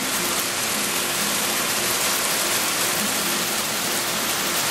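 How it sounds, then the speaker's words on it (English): Steady rain pouring down, a dense continuous hiss of drops close by with no breaks and no voices. "I'm just baffled by the beauty of the rain"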